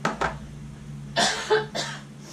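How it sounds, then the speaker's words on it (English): A few short, close coughs in quick bursts, separated by brief quiet pauses. "I still have a cough."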